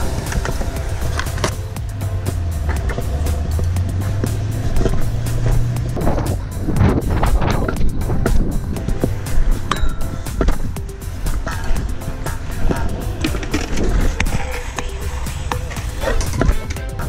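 BMX bike ridden at a skatepark, a continuous rolling rumble of tyres on concrete with clattering impacts and wind buffeting the microphone, loud and close throughout.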